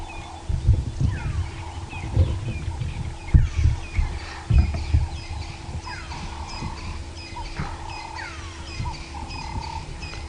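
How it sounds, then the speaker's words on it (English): A grey go-away bird gives repeated nasal calls at a distance during an early-morning safari drive, layered over low rumbling vehicle noise and sporadic knocks. "Can hear what sounds like an upset grey go-away bird giving their call"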